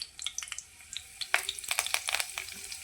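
Curry leaves dropped into hot oil already holding cumin and mustard seeds for a Maharashtrian khar vanga, a sudden burst of crackling spits and pops close up, settling into a sputtering sizzle.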